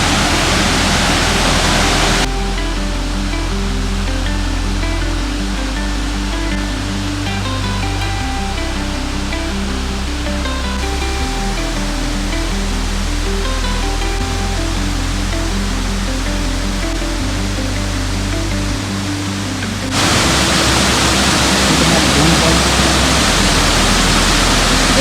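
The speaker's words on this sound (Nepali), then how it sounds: "अब के अरे वाटरफलको भिडियो मात्र पनि राखिदिन्छु" A waterfall in Bellingen, Australia pours with a constant, full rushing roar, heard alone at the start and end, while music plays over it through the long middle stretch.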